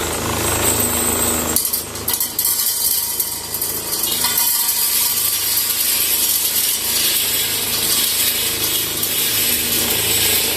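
Game Changer brass sorter shaking and rattling .40 S&W brass cases through its sorting plates: a dense, steady metallic clattering and jingling that runs the whole time, loud and close, with no talk.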